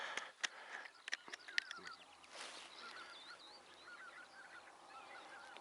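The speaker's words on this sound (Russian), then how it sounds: "Пошел гусь." Geese honk in a scattered flock flying high overhead during a spring goose hunt, several calls at first then fainter continuing honks drifting in the distance, with no talking.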